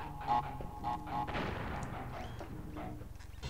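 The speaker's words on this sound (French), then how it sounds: "la TNT a explosé vu que je me suis trop éloigné" A TNT crate blowing up in the Crash Bandicoot 1 video game, a sharp booming blast that rises from a few brief game effects and trails off into a rumbling tail.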